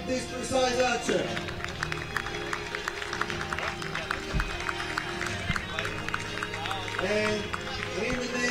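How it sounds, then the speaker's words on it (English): A crowd at a youth archery championship award ceremony gives a round of applause for an accuracy-award archer, scattered clapping mixed with music-like tones and an announcer's voice over the top. "We have a warm round of applause for this precise archer."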